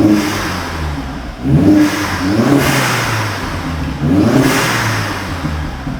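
Vauxhall Astra VXR engine with a new exhaust, revved up several times in a row from idle, each rise swelling and falling back, loud and close with no talking.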